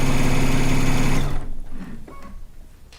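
A sewing machine runs fast and steady while stitching the last seam of a quilt, loud and close, then stops after about a second, leaving a few quiet clicks and handling sounds.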